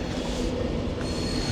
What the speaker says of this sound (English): Avanti West Coast coming in from London.